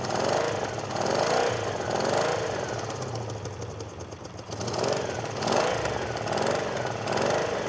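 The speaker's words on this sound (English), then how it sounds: "Not running great, but she damn near fired right up." An old Honda motorcycle left sitting for 22 years idles roughly after starting, its loud, uneven engine chugging close by and surging and sagging in waves.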